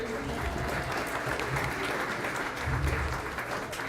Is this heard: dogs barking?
no